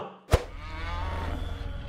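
A cow's low, drawn-out moo swells after a sharp knock and carries on at moderate loudness, with no voices present.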